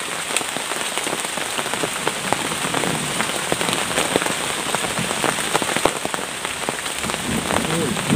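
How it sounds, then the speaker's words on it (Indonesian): Dense rain falls through the forest at a camping spot, a constant close hiss of drops hitting leaves and ground throughout, with no voices. "ngopi di hutan ditemani rintik hujan seperti ini"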